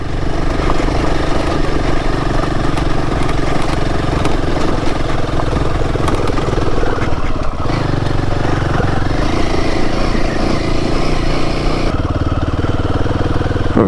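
Royal Enfield Himalayan 450 motorcycle ridden off-road, with a 21-inch front and 17-inch rear wheel, over former landslide ground: a steady, close, loud engine drone runs throughout, shifting in tone midway and again near the end.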